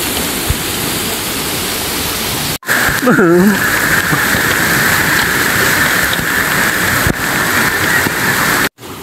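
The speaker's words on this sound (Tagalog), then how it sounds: "tingnan nyo yung ulan, patuloy pa rin na lumalakas" Heavy rain pours down at a river during a flood, a loud dense hiss of drops that cuts out briefly twice. A short vocal sound breaks in early on.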